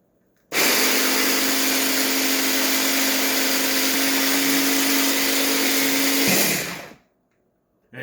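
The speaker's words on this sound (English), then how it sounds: "So we're going to drop in 1 tablespoon of anchovy paste. And we blend again." A countertop blender whirs Caesar dressing with a tablespoon of anchovy paste, a loud steady roar starting abruptly, holding for about six seconds, then winding down and stopping, with no voices.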